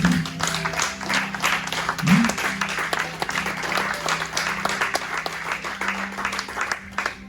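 Church congregation applauding, a steady sustained ripple of clapping from a crowd, moderately loud, with faint voices underneath.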